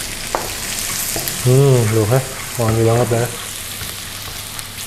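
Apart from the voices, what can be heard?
garlic frying in oil in a wok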